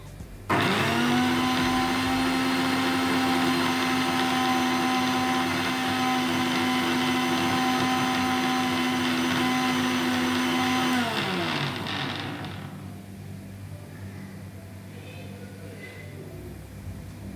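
An electric blender whirs loudly and steadily, beating oil into homemade mayonnaise, a strained motor drone with a high whine that holds for about eleven seconds, then winds down and cuts off, leaving quiet room noise.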